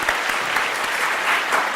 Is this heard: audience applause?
yes